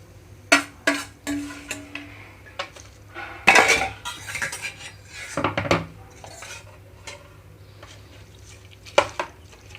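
A spoon mixes a fried tempering into daddojanam, temple-style curd rice, with scraping, clinks and knocks against the vessel in irregular bursts, close and clear over a soft background hum.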